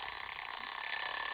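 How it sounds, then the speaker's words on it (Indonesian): An alarm rings in the film A Quiet Place as a bright, continuous high-pitched tone that holds steady and then cuts off abruptly near the end. "Dengan alarm yang berbunyi"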